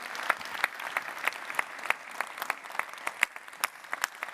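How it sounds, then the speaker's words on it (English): Moderate audience applause welcoming young chefs at a chefs' development committee gathering, a crisp patter of individual claps with sharper standout hits, steady throughout and free of talk. "Let us give a round"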